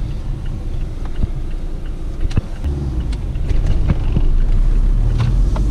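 A Mazda MX-5 drives along with steady low road and engine rumble, a few clicks and knocks from the cabin, and the noise swells louder in the last seconds; no one speaks.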